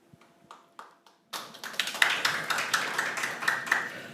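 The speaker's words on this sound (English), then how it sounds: "The Germans in the room are applauding already." Audience at a panel discussion on contested aid breaks into applause: a few scattered taps first, then a sudden burst of dense, steady clapping from many hands filling the room.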